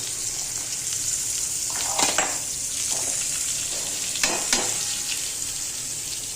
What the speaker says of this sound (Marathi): आणि आता कांदा मसाला याच्या वरतून टाकायचा आहे आता.